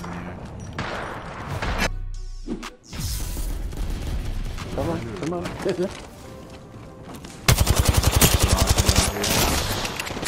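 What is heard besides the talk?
gunfire from Rampart's Sheila minigun in the video game Apex Legends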